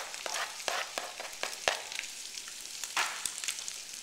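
Chopped onions and carrots fry with chorizo sausage in a pan for a black bean soup, a steady crackling sizzle with scattered sharp pops and stirring clicks, close up, no talking.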